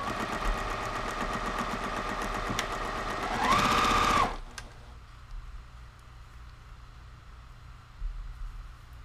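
A sewing machine stitches a quilt block in a steady, fast mechanical whir with a rising whine near the end, then stops abruptly, leaving a faint room hush.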